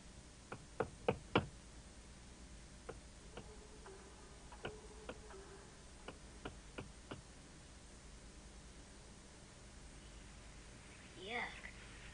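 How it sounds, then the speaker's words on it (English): Knocks on walls come in sparse groups of sharp raps, some quick clusters and some single taps, spread over a quiet, hissy background, with a short faint rustle near the end. "Why did he keep knocking on the walls?"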